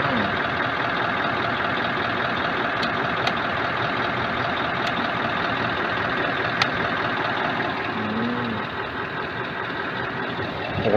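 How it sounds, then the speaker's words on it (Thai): A Scania R 580 truck with a V8 engine runs steadily up close, a loud, dense, continuous rumble that holds level throughout with no talking. "โอ้โหเสียงสุดยอดเลยว่าเสียงV8"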